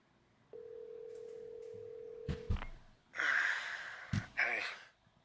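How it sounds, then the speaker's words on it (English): A cellphone rings in The Walking Dead Season 3 game, a steady electronic tone holding for about two seconds before a couple of sharp thumps and bursts of rustling noise. "Your phone ringing."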